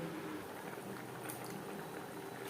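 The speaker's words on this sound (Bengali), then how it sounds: "আপনার উপর গ্রেভি ফুটে ওঠা পর্যন্ত অপেক্ষা করব" Egg curry gravy bubbling in a pot, a steady soft bubbling hiss that runs evenly throughout at low level with no voices.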